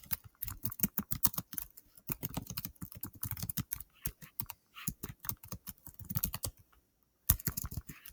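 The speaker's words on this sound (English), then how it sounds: "I'm not going to tell you, but I'll just type it." Typing on a computer keyboard, with rapid, uneven bursts of close key clicks and short pauses between runs, no voices.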